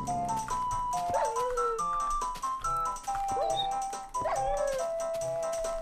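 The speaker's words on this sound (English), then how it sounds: "There's some wolves." Wolves in a Minecraft take on Zelda's Lost Woods give repeated yips and whimpering, bending calls over a busy, steady game soundtrack, with brief bursts close together throughout.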